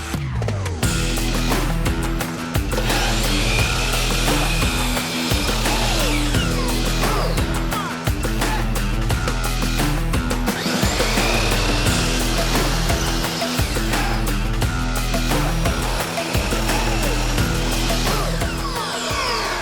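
A power saw cuts NuCedar shiplap siding at an inside miter, producing loud rhythmic bursts of whining and grinding, repeated in regular cycles roughly every two to three seconds with brief pauses between passes.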